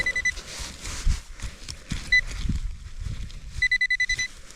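Metal detector giving faint beeps over a weak signal in Arctic terrain, with short high tones in a few bursts, including a rapid pulsing run near the end, amid rustling and digging noises.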